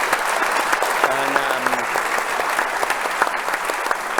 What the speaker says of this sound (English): please give an applause to Solange